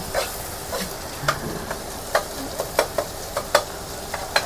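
Onions and tomatoes fry in a pan at a New Year gathering, a steady close sizzle broken by sharp clicks and scrapes as a spoon stirs them at irregular intervals.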